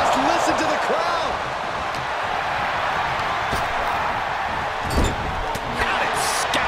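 A roaring arena crowd in the video game WWE 2K23 during a Wrestling Legends Royal Rumble, a dense, steady wall of cheering with a few sharp thuds and slaps poking through.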